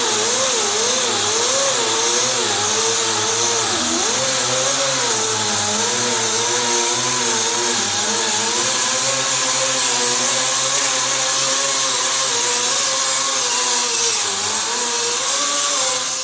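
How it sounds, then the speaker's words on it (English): Angle grinder working steadily across a car body panel, smoothing metal ahead of patch panel repair; a loud, continuous whine with wavering pitch as pressure shifts, running throughout with no talk. "And clean this up here with the grinder."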